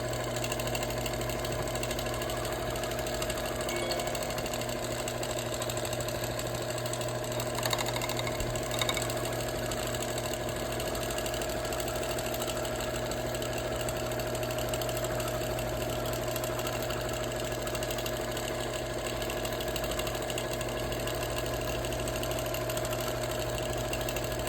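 A machine quilts a steady meandering pattern across a wool quilt, making a continuous, even mechanical hum and rapid needle rattle that does not pause; close and steady, with no talking.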